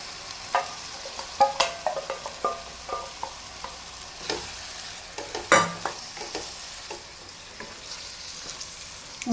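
Bottle gourd stirred and frying in a pan for a milk-based curry, with scattered scrapes and clinks of a spoon against the pan over a soft sizzle, moderately close, no talking.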